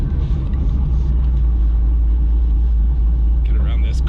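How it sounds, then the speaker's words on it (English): Chevrolet Camaro with a Stainless Works exhaust in its daily-driver setting idles with a deep, steady low rumble, close and constant, with a brief higher sound near the end. "Now, Stainless Works has positioned this exhaust as the daily driver exhaust."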